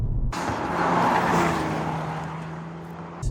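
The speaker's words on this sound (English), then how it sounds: "There's quite a lot of road noise" A steady broadband rumble and whoosh of tyres on a road fills the cabin of a moving Hyundai i30N, fairly loud and constant.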